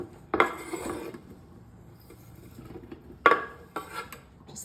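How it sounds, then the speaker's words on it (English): Two smoked sausages dropped into a crock pot, two short clattering knocks against the pot a few seconds apart, with light scraping and handling noise between them, close and fairly quiet. "So I have 2 of these smoked sausages and dump them in."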